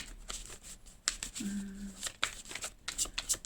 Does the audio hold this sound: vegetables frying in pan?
no